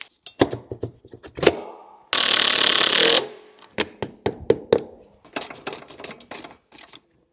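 Wheel bolts are tightened on a Mini KLF 50cc Racer-Pro Kids Elite petrol quad bike, with sharp metallic clicks and taps close by and one sustained, rasping burst of tool noise in the middle.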